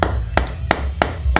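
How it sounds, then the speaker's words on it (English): Hammer blows beat on something in five sharp, evenly spaced metallic strikes about a third of a second apart, moderately loud against a rumbling background. "Look at Steve beating on it with a hammer."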